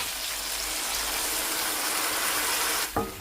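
Water pours steadily into a pot of pinakbet, a Filipino vegetable stew, as a continuous broad gushing wash that ends with a short clatter at the finish.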